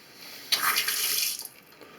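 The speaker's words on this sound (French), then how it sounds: "Je regarde l'eau." Water from a repaired dripping faucet gushes briefly into a sink, starting abruptly as a close, bright splashing rush that holds for about a second and then tapers off.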